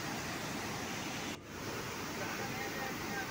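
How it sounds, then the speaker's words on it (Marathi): Water pours over the overflowing Bhushi dam after heavy monsoon rain, a loud, steady rushing roar that fills the clip, with a brief dip partway through. "यंदा भुशी धरण लवकर ओसंडून वाहू लागलं."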